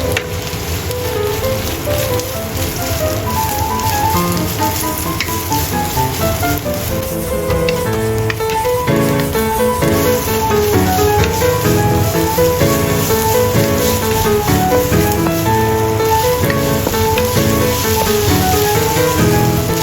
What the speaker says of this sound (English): Stir fry onion until translucent.